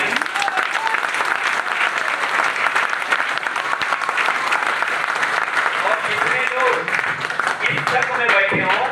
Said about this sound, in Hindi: मुनीब सर के लिए अब तक का सबसे जोरदार ताली बजा लीजिए